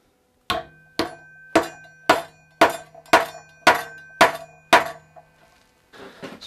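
Eight sharp hammer blows drive a walnut piece into a wooden chair at a steady, even pace, each ringing briefly, followed by a faint shuffle of handling.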